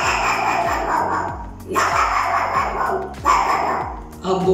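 A man mimics a puppy barking at people passing by, giving three bursts of sharp yapping barks with growly tails, loud and close, spaced by short pauses.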